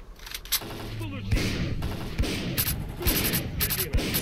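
Repeated gunshots crack from a weak weapon in the video game STALKER: Clear Sky, several sharp single shots spaced about a second apart amid game noise, with someone talking over them.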